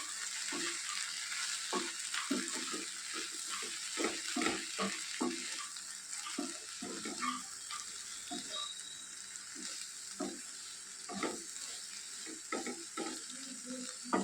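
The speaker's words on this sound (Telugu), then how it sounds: "చివర్లో ఉప్పు వేసి బాగా కలుపుకుందాము" A spoon stirs okra tomato curry in a pan after salt goes in. It scrapes and clacks in irregular strokes over a continuous soft sizzle, close and moderately loud, with no talking.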